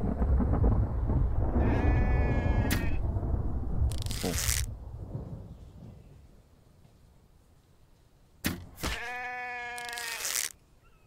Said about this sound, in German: Ach, oder ein Schaf.